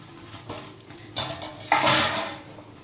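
Fried lentil fritters are tipped into a pot of simmering tangy vegetable curry, making metallic clinks and scraping from a utensil, then a louder splashy clatter as they drop in.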